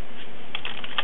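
Typing on a computer keyboard, a quick run of crisp, close key clicks in a short burst, loud and alone without any talk.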